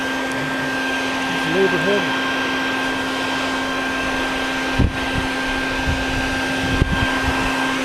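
A vacuum cleaner runs steadily at close range while being used to remove a hornet nest, a loud whining drone with a constant pitch. A person speaks briefly over it, and a few thuds and bumps occur near the end.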